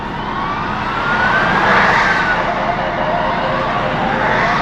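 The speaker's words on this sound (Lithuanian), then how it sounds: "Dar viena greitoji." An ambulance siren sounds in a long traffic jam, a steady wailing tone that swells and fades as it passes by at moderate distance, over a constant hum of idling vehicles.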